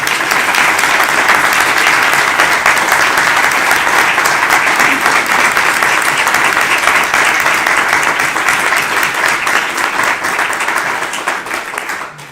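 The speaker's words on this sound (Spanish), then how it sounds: "Y yo le pediría a todos un aplauso para don Agustín." Loud, sustained applause from a large crowd at a rural church gathering, dense clapping that continues steadily for the whole stretch before tapering at the end.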